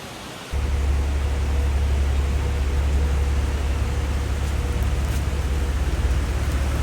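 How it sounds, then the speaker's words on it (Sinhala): Rain falls near Ravana Ella as a dense, steady hiss with a low rumble underneath. It starts abruptly after a brief quiet moment and stays loud and unbroken throughout, with no voices. "සිරිකොද වැස්ස වැටෙනවා."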